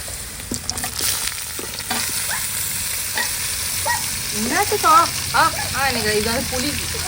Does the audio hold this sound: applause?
no